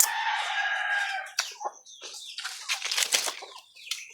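A rooster crows loudly and close by, one long drawn-out call followed by a run of choppy clucks and squawks, with no talking over it.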